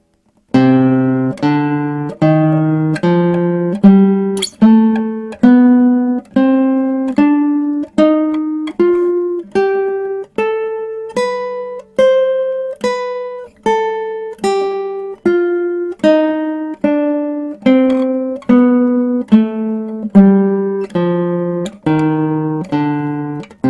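A C jazz minor scale played on guitar, plucked single notes climbing up and back down in an even, steady rhythm, each note ringing clearly and alone.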